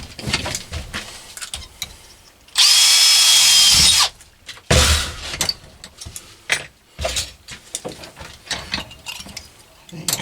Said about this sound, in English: put a bigger drill through in a minute